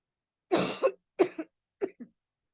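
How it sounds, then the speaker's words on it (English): A person with a lingering cold coughs three times in quick succession, each burst shorter and quieter than the last, close and alone with no other sound. "Sorry, I'm trying not to cough in front of you guys."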